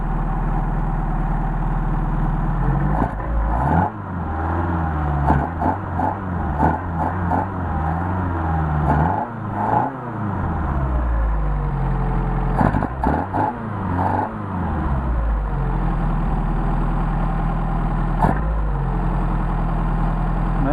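A Mercedes 190SL fitted with Solex 44PHH carburetors idles at around 1400 rpm, a close, steady low rumble with several brief rises in engine speed before it settles back.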